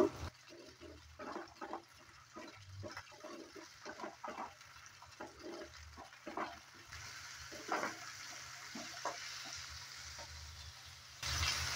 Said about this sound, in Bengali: মটরশুঁটিটা দেওয়ার পর আবারও কিছুক্ষণ সময় নিয়ে একটু নেড়ে চেড়ে নেব।